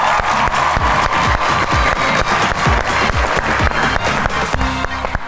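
A studio audience on a Pakistani talk show, Suno To Sahi, applauds as guests Mohsin Gillani and Amna Shabib walk on. Dense, steady clapping runs from start to finish, with music-like thumps rising beneath it.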